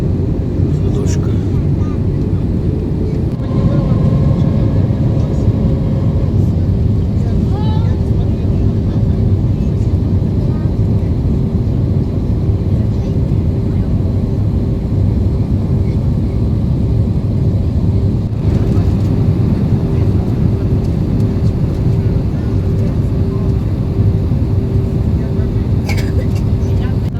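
Inside an S7 airliner cabin on descent with the landing gear lowered, a steady loud low engine and airflow roar fills the space. A few faint thumps and rattles sit in the drone, and no one speaks.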